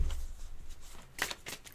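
Tarot cards being shuffled by hand, a short quiet riffle with a brief crisp flutter near the end, close and soft.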